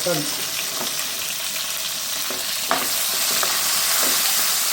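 Onions sauté in a pan for a village-style fish curry, a steady close sizzle with occasional spoon stirs and scrapes throughout, no talking.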